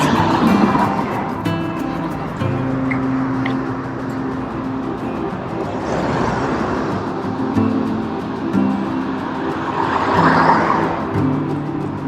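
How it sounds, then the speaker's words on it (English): Busy street traffic on Broadway in historic East Long Beach, California, hums continuously as cars pass by, with swelling whooshes of nearby vehicles rising and fading over a steady urban roar. "We are on a busy street here on Broadway, so you're getting a lot of traffic noise."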